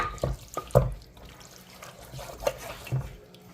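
Water splashes and drips in a sink as meat is rinsed under running hot water, with a few sharp knocks and sloshes, irregular and close, with quieter running water between.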